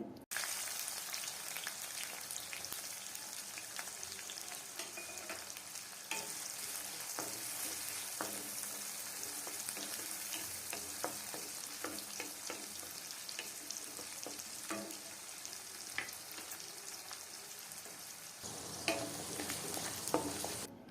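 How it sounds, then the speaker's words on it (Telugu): Sliced onion and green chillies fry in about 100 grams of hot oil in a kadai on a stove, a dense continuous sizzle with occasional spoon scrapes, close and steady throughout. "నూనె వేడెక్కాక ఉల్లిపాయ, పచ్చిమిర్చి 2 నిమిషాలు ఫ్రై చేయండి."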